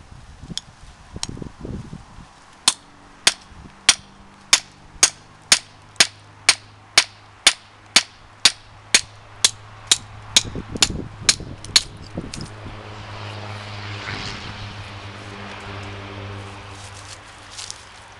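A 1095 steel 4.5-inch hunter knife is batoned through elk bone, giving a steady run of about twenty sharp, evenly spaced wooden knocks, each ringing briefly, before the strikes stop and a low rustling handling noise remains.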